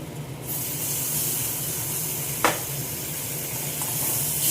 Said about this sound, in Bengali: এবার এই মশলাটা পুরোটা দিয়ে দেবো।